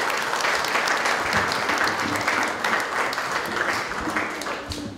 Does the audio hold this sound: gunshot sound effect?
no